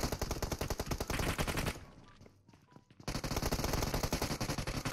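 Gunfire in the mobile game PUBG Mobile: rapid automatic bursts rattle loudly, stop briefly for a quieter gap, then resume in a dense, continuous stream.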